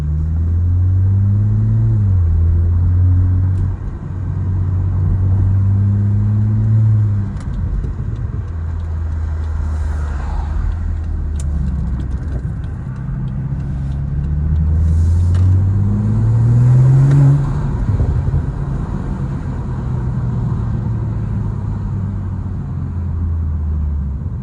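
A BMW 440i Gran Coupe xDrive drives hard on city streets at night, its engine rumbling and revving through several rising pulls and gear changes, loud and close, with no talking.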